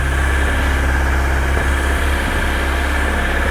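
A 1989 Yamaha FZR600 motorcycle idles steadily after starting, its engine a close, loud, continuous throb with a low mechanical drone and a faint rhythmic pulse, with no talking over it.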